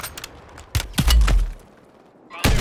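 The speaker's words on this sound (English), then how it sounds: "I'm getting fucking sniped at" Sniper fire in Call of Duty MW3 Warzone sounds as several sharp, heavy shots with booming low ends, spaced apart, the last one landing near the end, while a player's voice is faintly present.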